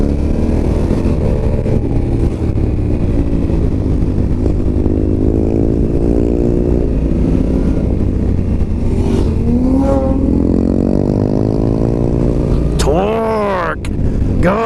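A 2021 Honda Africa Twin 1100 motorcycle pulls hard through the gears on a twisting mountain road, its engine note climbing and falling in rising sweeps with a sharp rev near the end, loud and close under steady wind rush.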